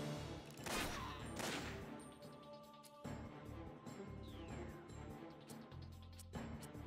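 Bursts of gunfire from Metal Gear Acid, a rapid fusillade near the start followed by a few sharper isolated shots over a steady game background, with no talking.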